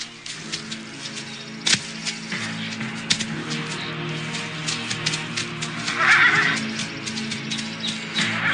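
Horses neighing and whinnying outdoors near a mountain trail, a few whinnies rising over a steady background murmur, with occasional hoof knocks.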